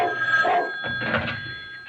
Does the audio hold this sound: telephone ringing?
yes